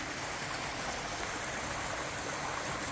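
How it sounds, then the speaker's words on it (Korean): A mountain stream flows steadily and close by, a dense, even rush of water with no break across the whole stretch and no voices over it. "물소리가 정말 듣기 좋죠."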